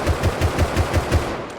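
Rapid, evenly spaced semi-automatic rifle shots from the video game Rust Console Edition, about six loud close reports fired in a steady rhythm roughly every fifth of a second, with no voices over them.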